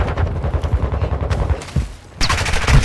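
Rapid gunfire from Call of Duty ranked multiplayer, bursts of close shots in steady rhythm, a short lull, then loud firing resumes near the end.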